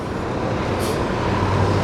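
A Connecticut Transit city bus rolls past on a Hartford street, a close steady engine and road roar with a brief hiss of air brakes partway through.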